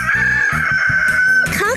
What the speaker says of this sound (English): A rooster makes a cock-a-doodle-doo sound.